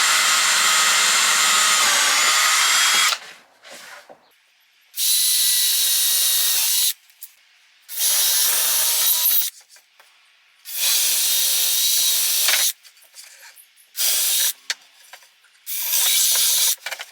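Power drill with a 5mm bit boring pilot holes during a Fiat Ducato camper van garage build, loud high whining bursts of several seconds each, starting and stopping repeatedly with short quiet gaps between.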